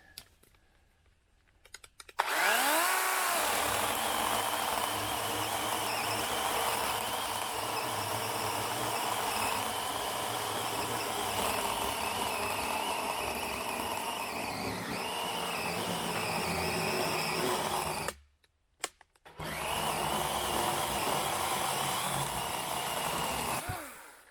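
A DeWalt electric chainsaw cutting wood, running with a steady, loud motor whine and chain buzz for long stretches, stopping briefly partway through before restarting.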